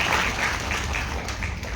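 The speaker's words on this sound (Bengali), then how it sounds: "এটার জন্য আমার মনে হয় একটু জোরে হাততালি ওরা ডিজার্ভ করে" An audience at a college Har Ghar Tiranga program claps for a students' presentation, a dense, steady burst of applause heard close for a moment.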